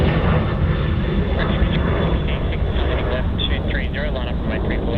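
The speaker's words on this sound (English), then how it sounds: "On screen there we have the Virgin Australia 737-800 departing off 34 right." A Virgin Australia Boeing 737-800 departs runway 34 right at Sydney Airport, a loud, dense jet roar filling the moment with broad rushing noise and faint voices mixed underneath.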